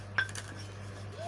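A small toy cooking pot gives one light metallic clink, faint and brief against a quiet indoor hum.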